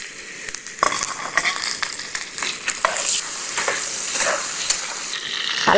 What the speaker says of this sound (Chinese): 腊肉炒香了，我们把土豆倒进来也煎一下。